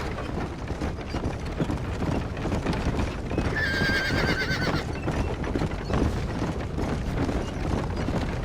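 Horses gallop with steady clip-clop hoofbeats in the Red Dead Redemption video game, and one of them lets out a clear neigh in the middle, over a continuous rumbling bed of game sound.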